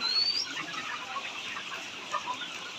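A large flock of about four thousand layer chickens on a poultry farm clucks and chatters in a dense, continuous din, with no talking.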